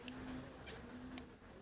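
Pigeons coo softly at a Pakistani village home, a faint low cooing over a steady background hiss, with a few brief higher bird chirps.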